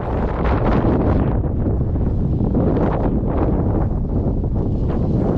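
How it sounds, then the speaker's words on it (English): Steady, blustery wind buffeting a microphone while checking fox and coyote traps, a dense low rumble with gusty swells that continues without pause and without any voices. "it's pretty windy up here today"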